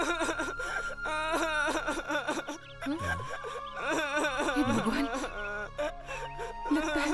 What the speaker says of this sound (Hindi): लगता है कोई बच्चा रो रहा है।